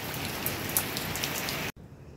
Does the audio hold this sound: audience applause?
no